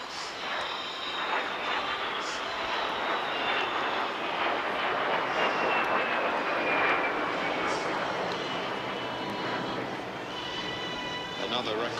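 A de Havilland Vampire jet flies past at a seaside airshow in formation with a BAC Strikemaster, its engines roaring in a broad sustained whine that swells and slowly fades, while a commentator talks over it.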